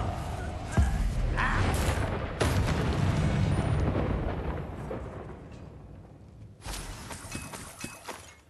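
In Hogwarts Legacy, a Confringo blasting spell lands with a sharp crack and shattering burst, followed by a long rumbling roar that slowly fades, then a second brief blast near the end.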